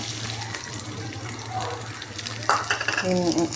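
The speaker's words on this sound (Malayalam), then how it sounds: "അതിലേക്ക് തേങ്ങക്കൊത്ത് ഇട്ട് കൊടുക്കാവേ." Coconut pieces frying in coconut oil for kappa biryani, a soft steady sizzle that jumps louder as the pieces hit the oil, with a little stirring close by.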